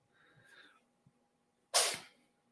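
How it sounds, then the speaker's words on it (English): A cat sneezes: faint snuffling sounds come first, then one sharp, loud sneeze burst that fades quickly into quiet. "You guys hear that? It's a cat doing his chain sneezing."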